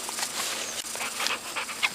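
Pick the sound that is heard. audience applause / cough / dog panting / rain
dog panting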